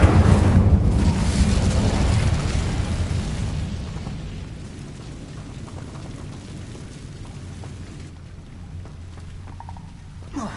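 A fire spell cast in the Hogwarts Legacy video game opens with a loud whooshing, roaring burst that slowly fades into a low, rumbling crackle, with a few faint clicks near the end.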